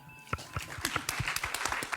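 A small audience claps for itself at a pop-culture event, scattered distinct hand claps building into a loose ragged patter, fairly quiet and close.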